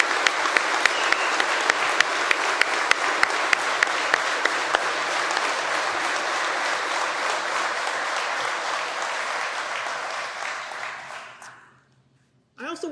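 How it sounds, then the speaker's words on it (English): Loud, sustained applause from a large audience at a career recruit class graduation ceremony, dense and steady for about ten seconds before fading out, with a brief voice at the very end. "So if everyone could just give him a round of applause for his gift."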